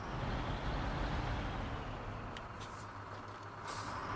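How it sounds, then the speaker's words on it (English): Loud Mastodon truck engine in the SnowRunner video game, a steady heavy diesel rumble that dominates throughout, with brief hissing bursts near the end and no talk. "this truck is louder than normal. You guys heard how loud the Mastodon is?"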